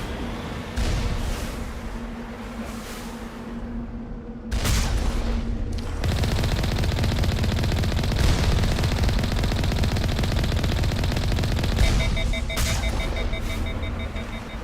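Gunfire in the video game Mass Effect Legendary Edition: a short gap, then sustained rapid automatic bursts that keep rattling loud and close, with a few louder booms mixed in.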